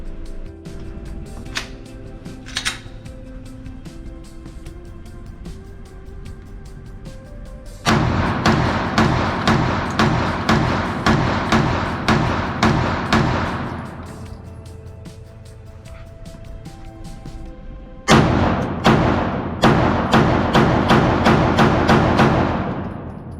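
A Zigana PX9 9mm pistol fires two long strings of rapid, sharp shots, each string lasting several seconds, with a few isolated pops and handling clicks before them.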